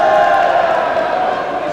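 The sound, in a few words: ice hockey crowd shouting at the referee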